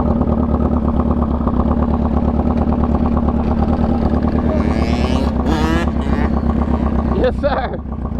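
A quad fitted with a swapped sport-bike engine runs steadily and loud up close, its harmonic drone continuous throughout, with brief voices and wind rushing over it near the end.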